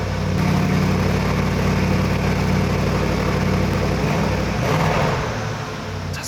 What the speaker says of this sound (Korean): PD 배기도 한번 들려줄까?